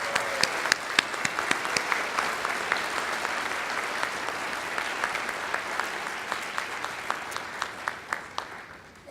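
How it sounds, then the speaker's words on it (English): An audience at a senior banquet claps warmly, dense and steady for several seconds, with a few sharper claps standing out in front and the applause slowly thinning toward the end. "give Dr. Shivers a round of applause"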